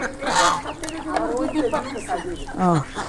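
A half-grown rooster on a small duck and chicken poultry farm gives several close, throaty clucks, intermittent and fairly loud, while people talk over and between them.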